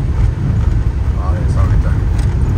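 A car drives along a road in Iran toward the Necropolis, a loud steady low road and engine rumble heard from inside the cabin, with voices talking over it.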